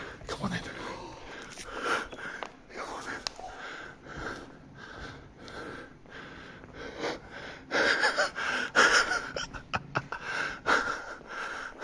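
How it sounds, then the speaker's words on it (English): Heavy, gasping breaths and sniffs come in uneven pulses throughout, close to the microphone, mixed with voices talking. "all the heavy breathing now"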